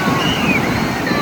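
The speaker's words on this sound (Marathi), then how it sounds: "या लाटा या पायांच्या जवळ, हे पाय आणि ह्या लाटा" Sea waves breaking on Devgad beach on the Konkan coast, a steady broadband wash of surf with some wind noise, close and fairly loud throughout the short stretch.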